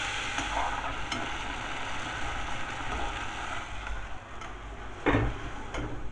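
Chicken sautéing in a pan for a barbecue chicken pizza, a steady broadband sizzle with occasional stirring scrapes and clicks, close and continuous with no voices.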